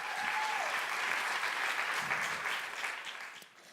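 Audience applause at a Slovenian music competition final evening, a steady wash of many clapping hands that tapers off toward the end.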